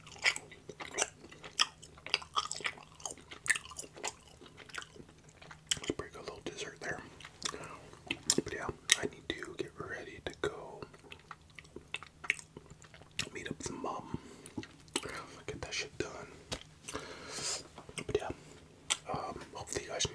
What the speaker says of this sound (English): Used to roll these up all the time and just like chew them like that.